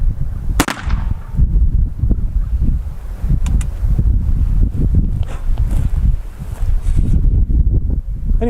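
Wind gusts buffet the microphone outdoors at a rifle range, a loud, continuous low rumble with uneven surges and a sharp crack early on.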